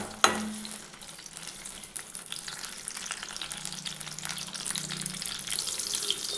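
Ginger and garlic with dried and green chillies sauté in hot oil in a pan, producing a continuous soft sizzle after a brief clink at the start, fairly quiet and close.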